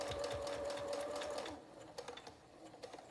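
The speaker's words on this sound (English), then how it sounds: "Okay, so we're gonna sew it on." A sewing machine stitches a fabric face mask in a rapid, close mechatonic whir with a steady high whine for over a second, then slows into a few separate ticks and clatters as the run ends.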